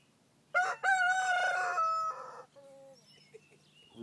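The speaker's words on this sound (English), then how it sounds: "Rooster? He's a vocal one, huh?" A rooster on a farm lets out a loud, close, drawn-out crow, followed by a few shorter trailing calls and faint clucks, with no talk over it.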